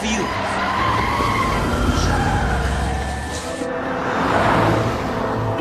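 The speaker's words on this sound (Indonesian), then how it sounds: "Setelah mobil itu berhenti" A car in an action film scene skids hard to a stop, with a loud tire screech running through the whole stretch over engine rumble and general scene noise.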